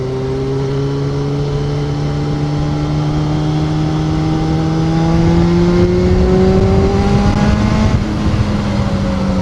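A motorbike accelerates onto a motorway slip road, its engine note climbing steadily through a long loud pull, with rushing wind noise building underneath.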